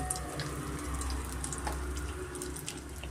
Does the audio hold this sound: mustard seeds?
yes